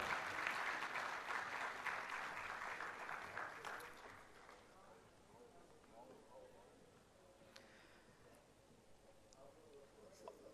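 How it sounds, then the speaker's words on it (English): Applause from the audience at a university research conference, loud at first, then fading over about four seconds to quiet room noise with scattered faint sounds. "Give a big round of applause, ladies and gentlemen."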